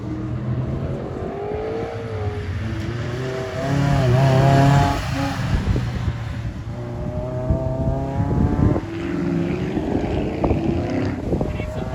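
A Mazda Miata runs an autocross course, its engine droning and rising in pitch through several gear changes, loud and close against steady wind buffeting the microphone.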